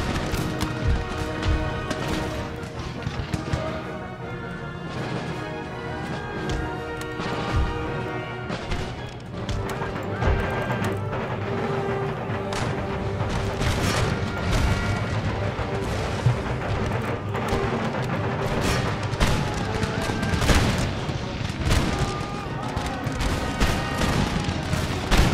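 A dense battle in Empire Total War, where foot artillery and massed musket fire crackle and thud without pause, mixed over steady orchestral music at moderate loudness.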